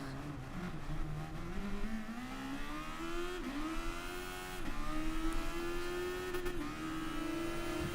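A race car engine in Gran Turismo at Monza holds a steady, buzzing whine whose pitch rises and dips slightly as the throttle changes, loud and continuous throughout.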